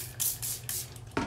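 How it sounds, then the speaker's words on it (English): A hand spray bottle squirting vinegar into a toilet bowl, four or five short hissing bursts in quick succession, close and fairly loud, with no voices. "I just wanna go ahead and spray it down and give it some time to sit on there and soak."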